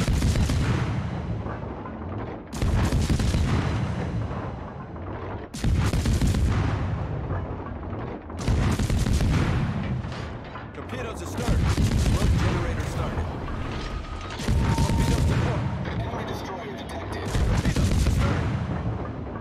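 Naval gunfire during a ranked World of Warships battle involving the Tier 9 destroyer USS Black: heavy booming salvos and explosions come in about seven repeated bursts, each loud with a rumbling tail.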